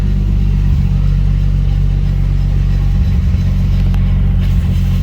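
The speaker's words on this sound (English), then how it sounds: "Actually, to be quite honest with you, I think the drive shaft is a wobbling." A car runs in third gear with a wobbling drive shaft, a loud, steady low engine drone with a rhythmic rumble and no talking.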